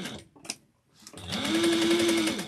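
After a few soft clicks and a short pause, a sewing machine starts and runs steadily, close and fairly loud, stitching an eighth-inch seam.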